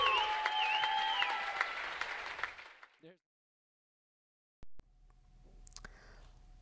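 Applause and cheering from a crowd at a high school basketball game for a player's 2,000th career point, a fairly loud burst that fades out, followed by silence and then faint rustling.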